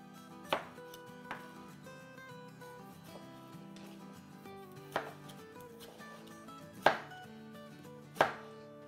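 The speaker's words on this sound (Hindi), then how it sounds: "टमाटो काट लेते हैं छोटे छोटे टुकड़ों में" Knife chopping a tomato into small chunks on a cutting board, a handful of sharp, separate taps spaced irregularly against faint background music.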